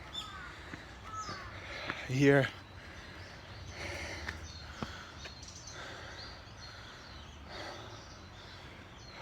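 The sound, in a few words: birds calling in Japanese mountain woods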